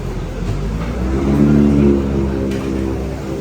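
An old car of roughly 50 to 60 years, stopped on a street in Ipoh, Malaysia, runs close by with a steady, low, throbbing engine rumble that swells slightly in the middle, with no talking.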